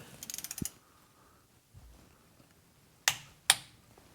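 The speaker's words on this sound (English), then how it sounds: "Remember, nice smooth movements on your torque wrenches." A torque wrench on a Jeep Wrangler JL transfer case, a quick burst of ratcheting clicks followed by quiet, then two sharp metallic clicks near the end, close and crisp with no talking.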